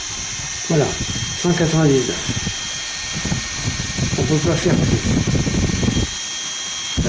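A CATGIFF portable rechargeable 5000mAh mini fan runs at maximum speed with a steady high-pitched whirring hum throughout, while someone speaks over it.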